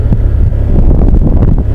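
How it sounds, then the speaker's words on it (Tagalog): Strong southwest monsoon wind buffets an outdoor fishing spot in the Philippines, a loud continuous rumble of gusts battering the microphone throughout, with no voices. "dahil habagat na yung hangin."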